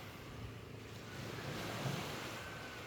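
Sea waves wash onto a beach in Negros, a soft continuous surf hiss mixed with wind noise against the microphone, swelling slightly midway, with no voices.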